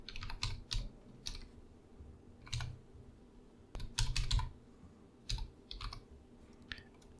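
Computer keyboard typing as a web address is entered into a browser: irregular bursts of quick keystrokes with short pauses between them, fairly close and clear over a faint background hum, no talking.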